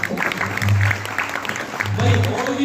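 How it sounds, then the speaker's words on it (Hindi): Audience applause at a devotional singing performance, rising in two bursts of clapping under a continuing voice. "ताली को बजा दिया करो"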